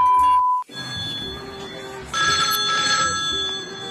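A mobile phone ringing with a loud electronic ringtone, a short tone pattern that pauses and then repeats in sustained bursts, with faint voices in the background.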